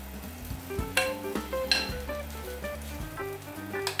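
Pollack pancakes coated in egg and topped with crown daisy fry in a little oil in a pan, giving a soft continuous sizzle with occasional light clinks, under a gentle melodic backing.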